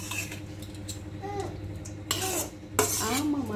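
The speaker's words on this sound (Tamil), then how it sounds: "ரெண்டு பேருக்கு தேவையான ரைஸை நான் மிக்ஸ் பண்ணின்னு இருக்கிறேன்" Cooked rice is stirred in a metal pot for lemon rice, with soft scraping and clinking from a spoon against the pot over a low hum. A quiet voice can be heard briefly now and then.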